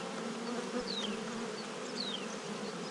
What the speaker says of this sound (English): the way these bees are sort of just hovering in,